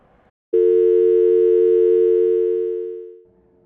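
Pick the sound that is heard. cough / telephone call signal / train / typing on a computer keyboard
telephone call signal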